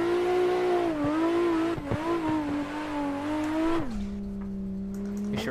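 A car drifts in Assetto Corsa, its engine holding a steady high drone that wavers as it slides, then drops to a lower sustained pitch, with some knocks of contact.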